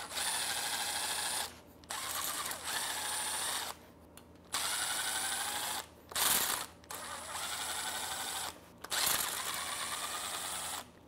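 Impact gun spinning out torque-to-yield cylinder head bolts on a VW VR6 engine, a loud mechanical whirring rattle in several bursts of one to two seconds separated by short pauses, with no talk.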